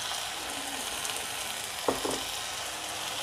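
Prawn biryani masala with fennel powder, garam masala and turmeric sizzles steadily in a pan, a constant close hiss broken near the middle by a couple of brief scraping stirs.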